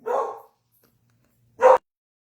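Guard dog barking indoors, two separate barks about a second and a half apart, the first longer and softer, the second short and sharp, with silence between.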